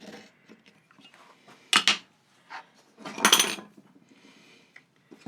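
A marking knife scores a line across wood while cutting a dado for a handmade tray: two short, raspy strokes close up, with quieter tapping and handling sounds between them.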